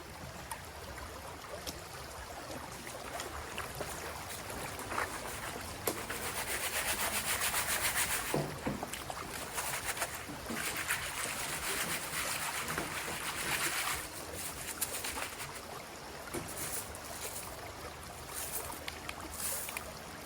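Gold concentrates from a 3-inch gold dredge are swirled and panned down in water, making a continuous close scraping, sloshing rub of gravel and water that swells and eases over time, with no speech.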